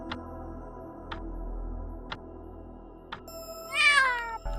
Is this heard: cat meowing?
yes